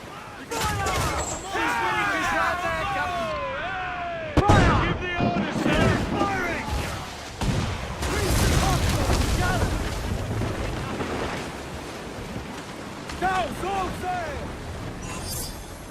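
Enemy ship cannons firing during a naval battle in Assassin's Creed 4 Black Flag, sharp booming shots over wind and creaking sea noise, with crew voices shouting throughout.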